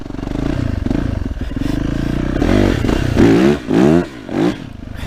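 A Yamaha YZF 450 four-stroke supermoto motorcycle ridden through mud, its engine loud and close, holding a steady drone before surging into repeated sharp revving bursts with rising and falling pitch.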